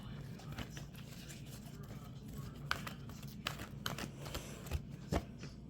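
Tarot cards being shuffled by hand, a soft papery riffling with several sharper flicks and taps, close and fairly quiet against a faint background.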